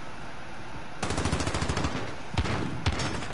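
SMG fire in a shooter video game, a loud rapid burst of shots starting a second in, then two sharper single reports, close and with no talking.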